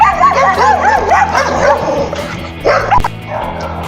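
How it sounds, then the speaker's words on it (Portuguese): Several dogs bark and yip in rapid, overlapping bursts through the whole stretch, loud and close, with a few whimpering cries mixed in. "os cachorros aqui pegando."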